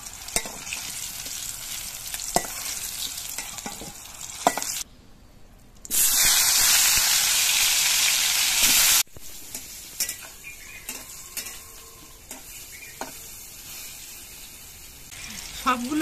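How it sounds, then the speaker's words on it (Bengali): Spiny gourd (kakrol) frying in mustard oil, with a crackling sizzle and occasional utensil taps, plus a loud burst of hissing spatter lasting a few seconds in the middle before the steady frying returns. "সবগুলো কাকরোল আমি একবারে ভাজবো না, দুবারে আমি কাকরোল গুলোকে ভেজে নেব"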